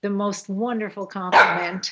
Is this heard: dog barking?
yes